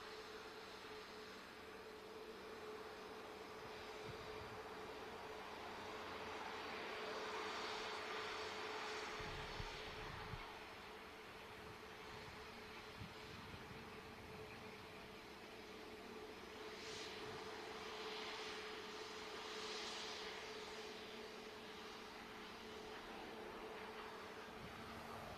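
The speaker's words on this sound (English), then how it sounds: "just touching down. Logainair ATR 72600." A Loganair ATR 72-600 turboprop touches down at Manchester Airport, a steady distant engine drone with a sustained tone and broadband rumble that swells gently and holds throughout, with no talk.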